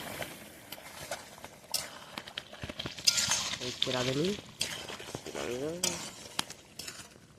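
A spoon scrapes and clinks through a pot of meat curry sizzling on an outdoor stove just after garam masala goes in, with quiet intermittent stirring sounds under voices nearby.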